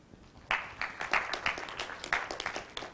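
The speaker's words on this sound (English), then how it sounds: "Get a round of applause for that." An audience at a Vanderbilt University talk breaks into applause after a short quiet pause; the clapping is loose and uneven, with distinct individual claps close by.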